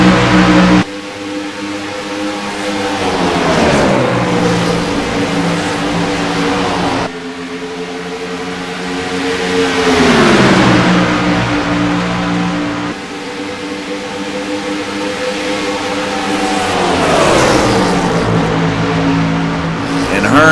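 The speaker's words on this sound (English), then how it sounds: "See those cars just come thundering down the front stretch." Race cars roar down the front stretch at Las Vegas Motor Speedway, engines rising and falling in repeated loud passes with a dropping pitch as each goes by, under a commentator's voice.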